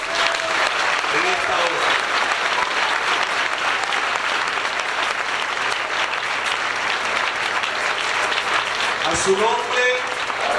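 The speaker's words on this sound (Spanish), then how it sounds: "Denle un aplauso al Señor" A Pentecostal congregation claps steadily through a church retreat service, a dense sustained wash of hands that holds level for the whole stretch while a preacher speaks over it.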